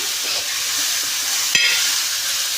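Chopped onion, tomato and green chilli sizzle steadily in a hot pan for a wheat-flour breakfast dish, with a sharp stirring clank midway.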